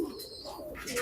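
A pigeon coos softly and briefly at close range in a fancier's loft of prized pigeons, with no talking over it.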